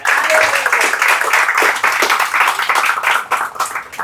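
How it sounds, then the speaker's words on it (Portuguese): Church congregation applauding during a celebration service, a dense, steady wash of clapping from many hands that carries loudly through the whole moment, with a few voices mixed in. "Aplausos para o Senhor Jesus"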